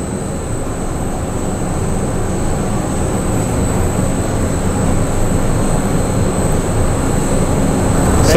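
Butane rushing through a 1lb Apollo extractor, a loud, steady hiss and roar that builds slightly over several seconds, heard alone without speech.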